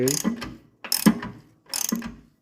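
A ratchet tightening bolts on a 1990 GMC Sierra, three close bursts of rapid clicking strokes separated by short pauses.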